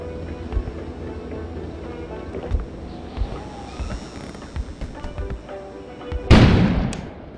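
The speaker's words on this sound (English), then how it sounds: "An explosion suddenly occurred outside." An outdoor explosion in the video game Kona comes as a sudden loud burst near the end, after scattered faint thuds and ambient game sound.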